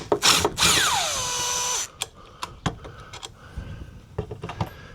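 A Milwaukee power drill backs screws out of an RV side mirror on a Forest River Georgetown, giving a loud close whirring run that winds down, followed by scattered clicks and small mechanical knocks.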